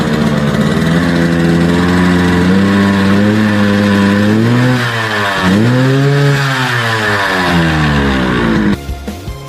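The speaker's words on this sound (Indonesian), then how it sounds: "settingan karburatornya dibuat agak basah, sehingga menghasilkan suara knalpot ngorok sesuai dengan ciri khas air eking style Medan" A Yamaha RX King motorcycle with Medan-style rich carburetor tuning runs loud and close, its gruff, throaty exhaust rising and falling through several revs before cutting off abruptly.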